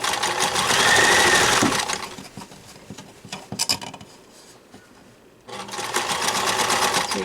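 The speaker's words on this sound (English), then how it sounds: "I'm basically sewing right through the hole here." A sewing machine stitches through a fabric pocket filter mask in loud, close bursts of rapid whirring, separated by a pause filled with soft handling noises.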